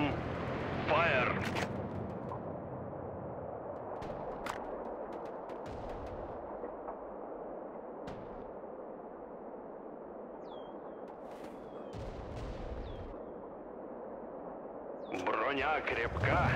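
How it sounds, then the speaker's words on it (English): Soviet artillery and gunfire in the World War Armies battle game: sharp, scattered shots and booms over a constant rumbling battlefield din, with brief bursts of louder combat noise near the start and end. "Listen, roar of the Soviet guns."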